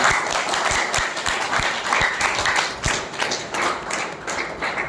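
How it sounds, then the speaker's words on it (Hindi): A seminar audience at a spiritual discourse gives loud, continuous applause, with scattered heavier thumps mixed into the dense clapping. "तो अर्जुन के लिए भी तो तालियां बजाइए"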